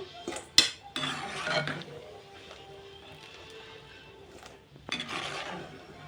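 Cooked mutton liver scraped out of a pot into another vessel, with clattering metal spoon knocks, rasping scrapes against the pot and a couple of sharp clanks, close and moderately loud.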